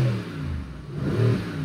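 Car engine revved a couple of times at close range, with mid-pitched swells rising and falling over a low idle.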